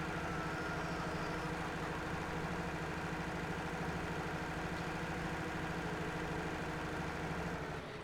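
A Farming Simulator 19 tractor pulling a seeder planter gives a steady, fairly quiet engine drone that holds unchanged from start to finish with no one talking.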